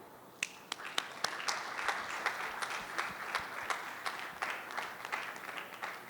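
Light applause at a public address by a government minister to people affected by a coastal road project, with a modest crowd clapping in scattered, distinct claps that stay quiet and steady throughout.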